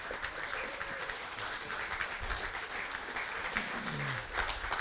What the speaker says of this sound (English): Keep clapping, this could take a while.